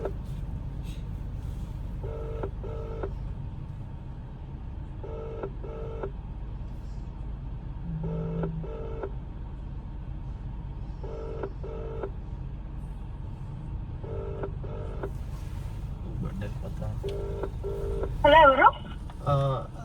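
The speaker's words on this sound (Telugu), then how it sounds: "ఇప్పుడు ఫోన్ చేస్తున్నాను" Repeated paired ringback tones of a phone call, evenly spaced, over low traffic rumble, followed by a voice answering at the end.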